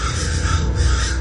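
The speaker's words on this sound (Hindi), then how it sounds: "वही कौवे थे जिन्हें अभी अभी सपने में उसने देखा था" Crows cawing loudly in a horror story sound effect, a dense harsh chorus of caws filling the short moment with no voices.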